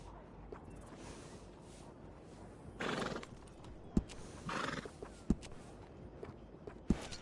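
A video game horse gives a couple of short breathy neighs and snorts over soft hoof clip-clops, with sharp isolated hoof thuds between them and quiet ambient sound.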